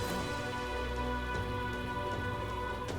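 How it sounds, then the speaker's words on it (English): Steady rain patters on surfaces in the video game Metaphor: ReFantazio, a constant dense hiss with a low rumble beneath and occasional brighter drips. "Rain."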